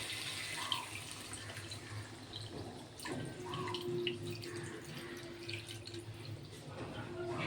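Hot water poured into cooked, browned mutton makes a soft, close splashing and trickling with a few drips, fairly quiet, ending in a brief louder clatter.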